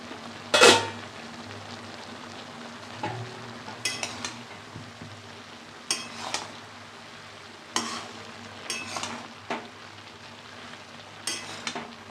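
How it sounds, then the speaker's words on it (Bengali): Mixed vegetables with spinach and green chilies frying in a pan, a low background sizzle broken by a handful of spaced, louder stirring scrapes and one sharp clank near the start, no talking. "আর পরিমাণ মতন কাঁচা লঙ্কাও দিয়ে দিলাম পরে নাড়াচাড়া করবো"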